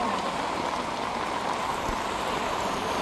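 Monsoon floodwater flows through a street in Kurla, Mumbai, a continuous loud rushing wash like a stream or heavy rain, steady throughout with no voices.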